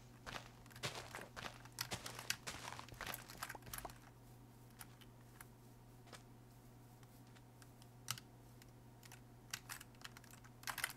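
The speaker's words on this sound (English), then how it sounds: "The relaxing ambiance of keyboard." Typing on a computer keyboard during a Minecraft session, a faint, irregular run of quick key clicks with short pauses over a low steady hum, no talking.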